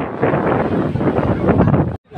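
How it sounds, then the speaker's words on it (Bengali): Strong wind roars across the microphone on Digha beach with surf behind it, a loud dense rush that cuts out abruptly near the end. "এই যে সামনে সমুদ্রের আওয়াজ"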